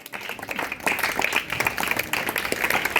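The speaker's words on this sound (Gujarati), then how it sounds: "જોરદાર તાળીઓના ગણગણાટથી આપણે વધાવી લઈશું મિત્રો." Steady, dense applause from a crowd of villagers and schoolchildren at a school farewell for teachers, continuous and fairly loud throughout with no gaps.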